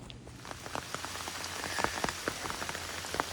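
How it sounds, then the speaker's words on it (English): Steady rain falls on the Appalachian Trail during a 2023 thru-hike, a dense close hiss broken by many sharp drop taps spread irregularly throughout, with no talking. "it started raining."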